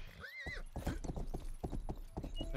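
Horse hooves clip-clop in the medieval video game Rustler, a quick, steady run of close, crisp hoofbeats, with a brief whinny at the start.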